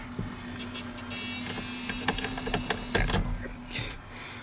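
A Ford bullnose truck key jingles and scrapes against the ignition, light metallic clinks over a steady background hum with a few sharper rattles.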